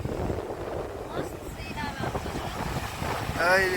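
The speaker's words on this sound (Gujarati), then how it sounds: "પવન પણ ભયંકર પવન છે હો" Strong wind gusts at the seaside buffet the microphone in a steady low roar throughout, with people talking over it.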